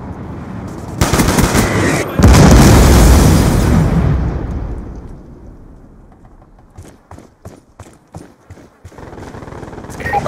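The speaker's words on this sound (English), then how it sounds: "Hellstorm missile inbound" Hellstorm missile strike in Black Ops 2 during a capture-the-flag match: a loud rumbling barrage of explosions starts around one second and again at two, roaring for several seconds before fading into scattered sharp gunfire pops.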